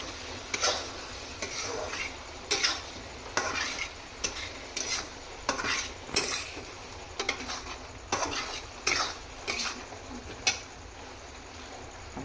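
A spoon stirs chicken kofta masala in a pan, scraping and clinking against the metal in repeated irregular strokes over a soft sizzle, close and with no talking.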